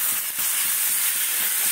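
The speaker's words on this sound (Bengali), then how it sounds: "সুন্দর করে কষিয়ে নিতে হবে" Curry sautéing in a pan after black pepper powder goes in, a soft steady sizzle with faint rhythmic stirring taps underneath, close by.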